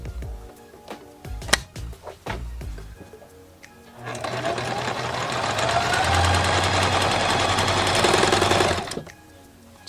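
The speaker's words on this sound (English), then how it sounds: "so now we're gonna sew along this edge right here" A sewing machine runs steadily for about five seconds, stitching along the edge of a fabric strawberry, with a dense, continuous whirring buzz that starts abruptly after a few light handling knocks.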